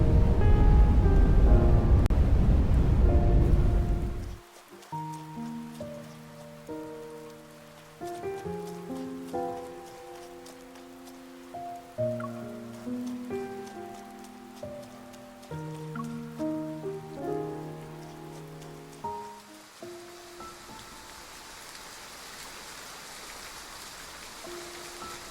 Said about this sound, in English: I knew the rain wasn't going to stop anytime soon.